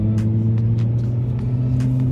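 A BMW E93 M3 convertible with the naturally aspirated S65 V8 idles close by, giving a steady, even low rumble with a firm engine hum throughout.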